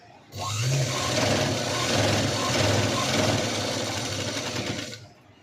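Sewing machine stitching the front and back pieces of a V-neck princess-cut blouse, a steady close motor hum running for about five seconds with a rapid needle rhythm, a voice speaking faintly over it.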